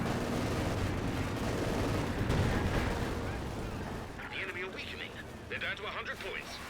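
Tank cannon fire and tube rocket explosions boom in a Company of Heroes 2 battle, a dense rumbling barrage that fades into scattered lighter blasts, with a voice talking over it.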